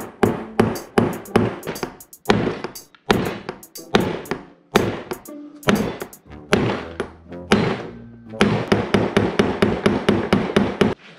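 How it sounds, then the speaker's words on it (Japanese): A hammer strikes a stripped screw on a 50-year-old Honda Monkey Z50J engine, producing loud, close metallic thunks in rapid bursts with brief pauses, ending in a fast run of evenly spaced blows. "叩いてたら回ったんだ多分"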